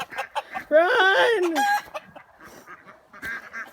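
Chickens cluck and squawk loudly on a winter farm, a rising burst of agitated calls that peaks then settles into scattered clucks, with a brief shout over them.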